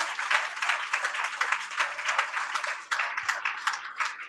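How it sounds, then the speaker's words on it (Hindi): Applause from a congregation at a Friday church meeting, a fairly soft but lively patter of many hands clapping steadily for several seconds. "जोरदार ताली बजाकर धन्यवाद दें।"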